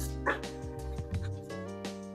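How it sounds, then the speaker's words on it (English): Dogs bark and yip indoors, a few short bursts over a steady tonal background hum, with some whimpering between barks. "Let me let my dogs out."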